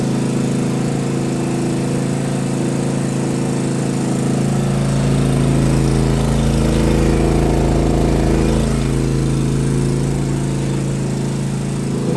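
A Philking PK4200 generator with a 17-ampere capacity runs under load, powering household appliances. Its engine gives a loud, steady, continuous drone, and the low rumble deepens and strengthens a few seconds in, then holds.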